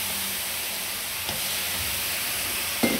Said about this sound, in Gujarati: આ આપણે ગરમ એકદમ થઈ ગઈ છે તો એમાં આપણે હવે પાણી નાખશું.